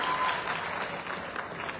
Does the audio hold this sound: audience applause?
yes